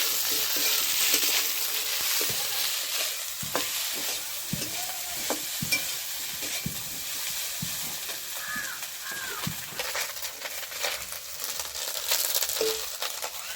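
Rice frying and being stirred in a pan while cooking muri ghonto, a steady close sizzle with scraping stir strokes and occasional clinks, no talk.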